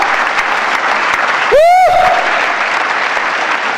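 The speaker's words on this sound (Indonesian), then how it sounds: "Tepuk tangan bagi Allah kita. Tepuk tangan yang meriah." A church congregation claps loudly and continuously through the whole stretch, with a brief tonal sweep rising partway through.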